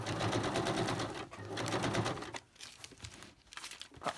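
A sewing machine set to a straight stitch with a regular needle runs fast through layered plastic, acetate and fabric for about two seconds. Crinkling of the material follows as it is handled.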